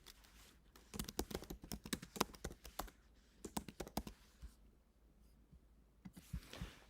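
Quick bursts of computer keyboard typing as a city name is entered, crisp close clicks in uneven runs with short pauses between, fairly quiet and with no talking.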